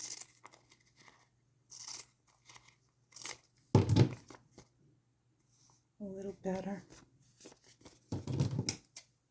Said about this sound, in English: these are old scissors